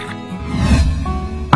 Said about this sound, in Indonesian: tinggal kita siram pakai kuah asam yang dijamin bikin seger